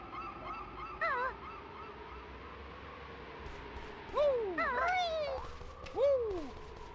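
Bird calls in the video game Banjo-Kazooie on the N64, goose-like honks rising and falling in short bursts of two or three over a steady ambient hum, moderately faint and spaced a second or so apart.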